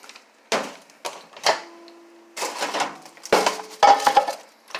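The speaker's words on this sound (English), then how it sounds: "So I'm going to pop these in the microwave." A bag of whole cooked blue crabs placed into a microwave: a few close clattering knocks and plasticky handling sounds, then the door closing and short electronic beeps.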